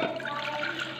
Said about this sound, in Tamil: இப்போது இந்த புளியில் தண்ணி ஊற்றி ஊற வச்சுக்கலாம்.